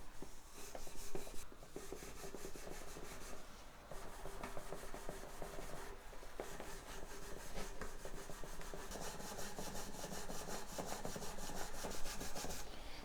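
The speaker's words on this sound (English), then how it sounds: "I'm not going to do a big heavy polishing, just a nice light polishing." Light polishing of guitar fret edges, a steady continuous rubbing and rasping that runs close and fairly even throughout, with small scratchy strokes and no talking.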